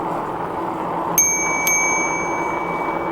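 Two quick, bright dings of a bicycle bell, the second ringing out and fading slowly over a steady rushing background.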